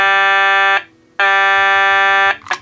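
A loud, harsh electronic siren tone from a 1985 G.I. Joe U.S.S. Flagg aircraft carrier toy blares in two steady blasts separated by a short gap, followed by a brief chirp.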